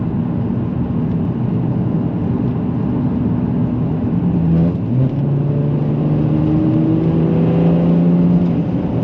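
A customer's car fitted with a custom DPF delete downpipe revs under mid throttle, a loud, close engine note that climbs in pitch in the second half with a brief shift blip partway through.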